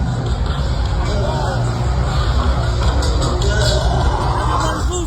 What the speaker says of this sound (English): Look at this crowd go.